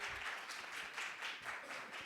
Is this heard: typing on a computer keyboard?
no